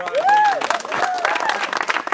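Wedding guests applaud the bride, a dense burst of clapping from a crowd, with a voice speaking over the start.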